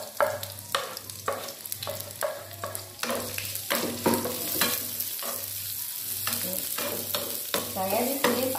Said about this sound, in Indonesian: Kita tumis bawang dulu.